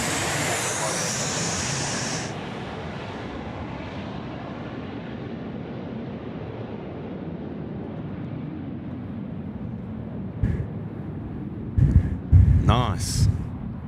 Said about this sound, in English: Next in over our heads is a 737 this time